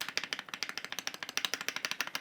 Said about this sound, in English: the spacebar still sounds like this